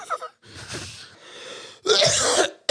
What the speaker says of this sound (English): I'm gonna cough into the mic.